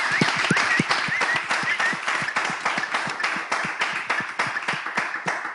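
Rhythmic, unison clapping from an audience at a Togolese cultural event honours the Champion Slam Chorus candidates, a steady beat of sharp claps over a lighter bed of scattered applause.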